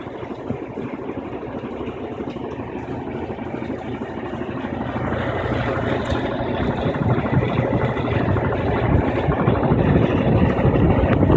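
An Electrolux 16 kg LDD16 washing machine runs its final spin cycle, a steady motor whir with rumbling drum noise that builds louder as the spin speeds up, with no voices.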